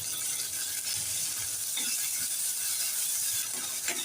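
Chopped tomato and green chilli sauté in a pan for veg masala Maggi, giving a soft continuous sizzle with a few scraping stirs of a spoon, close by and without talk.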